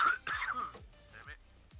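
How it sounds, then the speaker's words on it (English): A player coughs and clears his throat into a headset microphone during an online Xbox PUBG match, a few short harsh bursts close to the mic. "Stop coughing in the mic."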